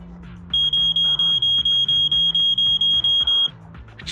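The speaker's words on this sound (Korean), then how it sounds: "진짜로 경보가 울리다니." In Zenless Zone Zero, an alarm beeps in a rapid, even run of about fourteen piercing high-pitched pulses over background music, then stops.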